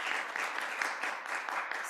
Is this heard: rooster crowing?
no